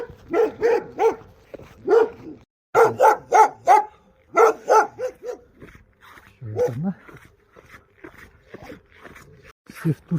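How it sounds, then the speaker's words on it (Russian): Several dogs bark in repeated sharp bursts on an island near Yakutsk, the barks close and loud in clusters with short pauses, and one whimpering yelp among them. "А тут собак очень много."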